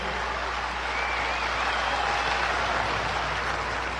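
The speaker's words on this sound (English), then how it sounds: "they deserve a big round of applause." Applause for a band at a live podcast show, a soft, steady patter of clapping from a modest crowd heard at a distance, with a faint whistle drifting over it and a low hum underneath.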